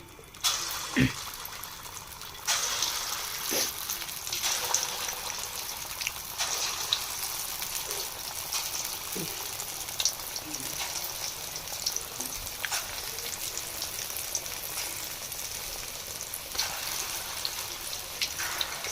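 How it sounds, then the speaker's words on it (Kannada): Bajji fritters frying in hot oil give a steady bubbling sizzle across the whole stretch, with a few sharp clinks and stirs on top and no talk over it. "ಎಣ್ಣೆ ಕಾಯ್ದತ್ತೆ ಅಂತೇಳಿ ಈ ಬಜ್ಜಿ ಹಾಕೊಂಬಿಡೋಣ"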